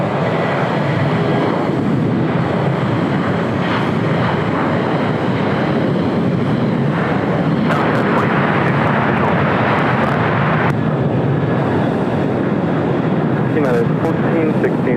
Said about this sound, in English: Next takeoff heading to Vegas, United Airlines flight 1006, 737-800